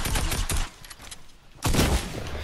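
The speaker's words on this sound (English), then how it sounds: "He's shooting me through the fucking wall, my G." In a game of Fortnite, gunfire comes through a wall in two loud, dense bursts of rapid shots separated by a short quieter gap.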